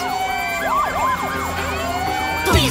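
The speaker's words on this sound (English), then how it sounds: "Do you hear all those sirens?" Several sirens wail at once, their pitches sweeping up and down in overlapping loops, loud and close, with a sharper burst near the end.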